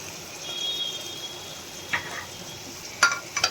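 A spoon stirs salt, turmeric and tomatoes into a potato and brinjal curry in a pan, with a soft steady sizzle and a few sharp clinks of the spoon against metal near the end.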